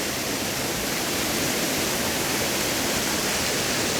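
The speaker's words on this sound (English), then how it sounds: "There's the waterfall." A waterfall swollen after heavy rainfall roars in a steady, dense rush of white water, loud and close, unchanging for the whole stretch with no voices over it.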